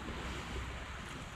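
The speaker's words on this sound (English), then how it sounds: "loud waves" Loud ocean waves breaking on a beach in Lombok, a close, continuous rushing wash of surf mixed with wind buffeting the microphone, no voices.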